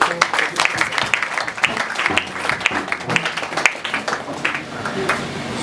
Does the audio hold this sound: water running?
no